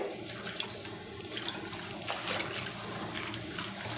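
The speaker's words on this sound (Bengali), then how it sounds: "ভালো করে আমি এই যে জলে দিয়ে দিচ্ছি ভালো করে ধুয়ে পরিষ্কার করে নিতে হবে" Bathua leafy greens are washed by hand in a vessel of water, with a steady close slosh and trickle and small splashes, fairly quiet and with no talking.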